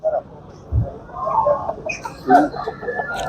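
Chickens and roosters at a poultry market in Aydınlı, Tuzla, Istanbul, giving scattered clucks and short calls at moderate distance, while people talk nearby.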